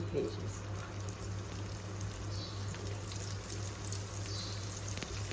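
Chicken wing pieces frying in hot oil, a steady low sizzle and bubbling that runs throughout beneath a constant hum.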